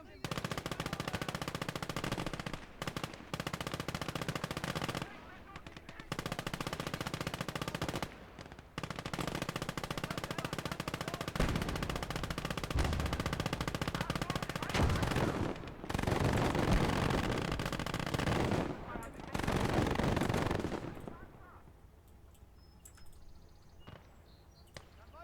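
Sustained machine-gun bursts in Call To Arms: Gates of Hell, loud rapid automatic fire repeating in long volleys with brief gaps, then tapering to quieter scattered shots near the end.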